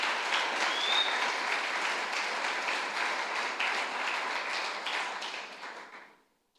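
A church congregation claps together for several seconds, dense, even applause with scattered louder individual claps, filling the room before fading out abruptly at the end.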